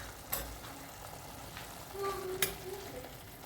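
Spice masala added to a pan of simmering vegetable kadai, a faint steady sizzle with a couple of soft clinks from stirring against the pan.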